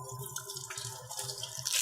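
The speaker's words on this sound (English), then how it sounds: "rinse thoroughly under the running water" Dentures being rinsed under a running tap, with a steady stream of water splashing and dripping into a sink, close and continuous for the whole moment.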